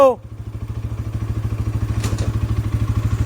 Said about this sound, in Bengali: বাইক স্টার্ট দিয়ে দিয়েছি, এবার যাই ভাইয়ের কাছে।